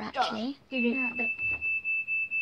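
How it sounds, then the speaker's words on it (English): A fire alarm in a house gives a steady, piercing electronic beep that pulses in a regular rhythm of short repeated bursts, starting after a few lines of talk and then continuing on its own. "That's a fire alarm."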